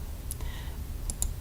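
A computer mouse gives three sharp, brief clicks, one early and a quick pair near the end, over a quiet background.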